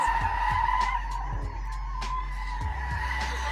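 A modified BMW drifts around a roundabout, tires skidding and squealing in long sustained screeches over a steady engine roar, with a few sharp bursts as it slides.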